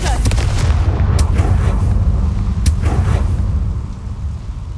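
Confringo blasting-curse explosions in the Hogwarts Legacy video game, loud booming blasts with sharp cracks over a dense rumbling roar, fading slightly at the end.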